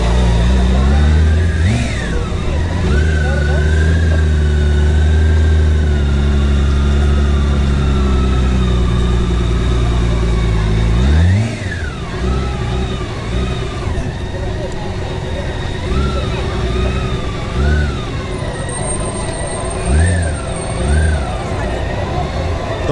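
A car rolls in and parks during a VVIP escort drill, its engine rumbling and revving close by for most of the clip while people talk over it.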